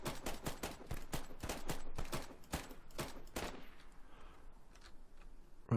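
Rapid bursts of automatic fire from a Bison gun in the DayZ game on a Namalsk server crack in quick succession for several seconds, then stop, leaving faint background noise with a couple of distant shots.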